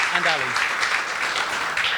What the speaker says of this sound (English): I think we should kick off by giving John here a round of applause